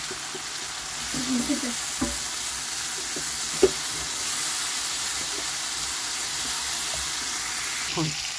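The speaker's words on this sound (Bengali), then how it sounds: "একটু মশলাটা ভালো করে কষিয়ে নিচ্ছি" Coriander and chili powder spices being fried in oil, a steady hiss of sizzling with occasional clinks and scrapes of stirring, close and continuous, with no talk.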